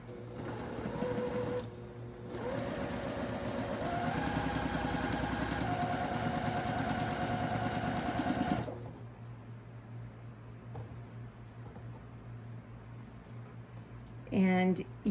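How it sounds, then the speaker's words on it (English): Sewing machine chain sewing quilt block pieces, a steady fast mechanical whir running for about eight seconds before stopping, leaving quieter room noise. "if I just want to keep chain sewing these, the next one's going to go like this"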